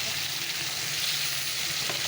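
Fish frying in a pan of hot oil, a dense, loud continuous sizzle heard up close for the whole moment, with no talk.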